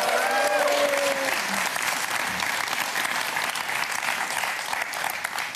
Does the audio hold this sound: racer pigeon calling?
no